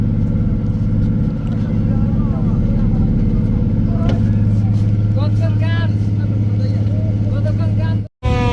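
A passenger launch's engine drones steadily and loudly on a river in Bangladesh, a continuous low throb throughout, with voices talking over it and a brief dropout near the end.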